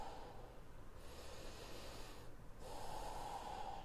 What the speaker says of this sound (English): 2 nice big deep breaths at least.